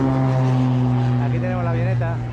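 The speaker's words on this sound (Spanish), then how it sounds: "Aquí tenemos la avioneta despegando." A small propeller plane takes off near a turquoise Caribbean beach, its engine a strong, steady drone with a rising tone, close and loud throughout the short stretch, with no talking.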